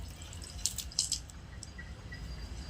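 Water poured slowly from a mug into a water tank during cleaning, a few sharp splashes and drips over a low background rumble, with no talking.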